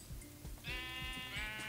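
A sheep in the Minecraft video game gives a single drawn-out, wavering bleat, loud and close, preceded by soft rustling and footstep-like thuds.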